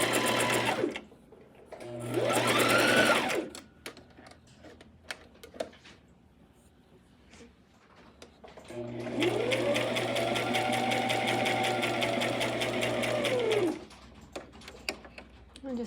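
A sewing machine stitches a scrunchie headband in two bursts, a short run and then a longer steady whirring run, with quiet handling clicks in the pauses between.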